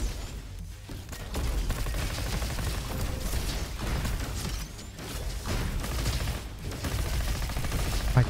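Rapid bursts of Raptor SMG gunfire from the Roboquest video game crackle continuously amid mechanical clatter and whooshes, loud and dense with brief pauses.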